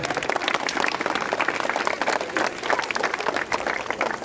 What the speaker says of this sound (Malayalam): നമുക്ക് എല്ലാവർക്കും സന്തോഷത്തോടുകൂടെ നല്ലൊരു കയ്യടി